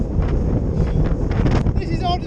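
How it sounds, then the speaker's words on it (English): Strong wind roars and buffets against the microphone while cycling down a long, steep hill, loud and continuous with gusty swells. "It's really windy."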